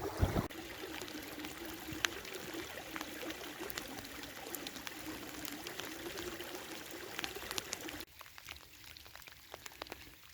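Heavy rain falls on estuary water in a dense, continuous hiss of drops and splashes. The steady wash lasts throughout and eases slightly near the end.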